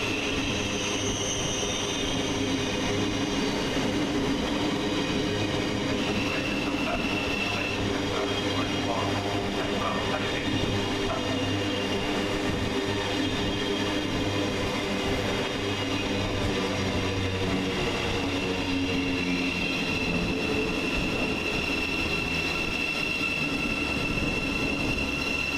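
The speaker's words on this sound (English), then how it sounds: "we see the arrival of 700 144, arriving with the 1441 Govia Thameslink service from Gatwick Airport to Bedford" Class 700 Govia Thameslink unit 700144 arriving at Luton station on the Gatwick Airport to Bedford service, with a sustained rumble of rolling wheels, brake and wheel squeal tones, and loud, steady background noise.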